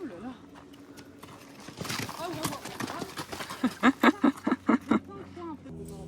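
A mare's hooves clop on hard ground, quiet at first under soft French talk and rustling, then a run of distinct, fairly close hoofbeats in a steady walking rhythm near the end.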